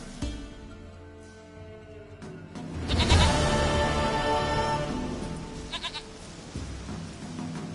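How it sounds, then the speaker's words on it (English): A goat in a Witcher video game bleats in a series of loud, drawn-out wavering cries, the longest and strongest in the middle, with shorter calls near the end and no talking. "Goat of mine, dearest,"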